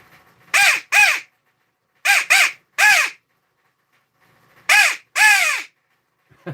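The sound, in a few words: crow call device imitating crow caws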